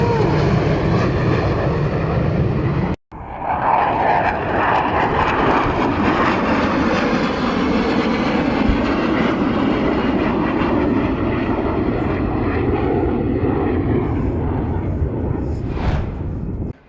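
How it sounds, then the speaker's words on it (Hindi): Su-25 attack aircraft flying low, a loud, sustained engine roar that cuts out for an instant near the start and then rolls on unbroken until an abrupt end. "रूस ने अचानक अपने Su-25 को ऑर्डर दिया जिसने काफ़ी नीची उड़ान भरते हुए काफ़ी करीब से यूक्रेन के बड़े बड़े ठिकानों को उड़ाया है"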